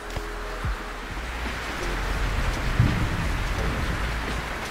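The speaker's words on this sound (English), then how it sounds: "We got ourselves rolling right through a proper storm." Heavy rain and stormy weather at sea while sailing a brig in the video game Sailwind, a dense steady hiss of rainfall with a low rumble that swells slightly louder midway, with no voices.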